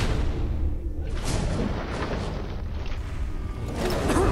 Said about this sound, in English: Time to face the sweet belly music of my rocket launcher.